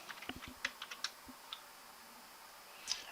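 Quiet typing on a computer keyboard during spreadsheet work: a quick burst of light key clicks, then a pause and a few scattered taps, close and alone with no voices.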